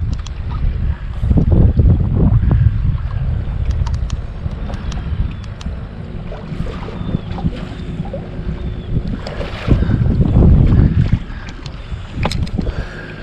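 Wind buffets a small fishing boat on Lake Murray, loud low rumbling gusts that swell and ease, with water noise and faint knocking of the hull throughout.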